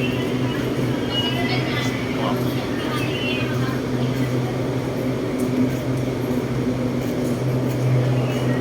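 Interior of a new LRT Line 1 train in motion, a steady low rumble with humming tones under continuous passenger chatter nearby.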